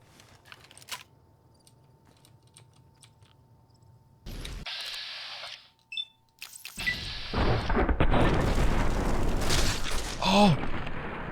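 A grenade rifle explosion in the modded game Fallout: New Vegas, a loud broadband burst that erupts suddenly after quieter moments and rolls on with a dense, sustained roar and debris-like crackle.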